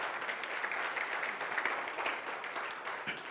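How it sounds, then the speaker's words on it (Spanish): A church congregation applauds steadily, a dense wash of many hands clapping at even loudness throughout with no voices standing out. "dale un fuerte aplauso"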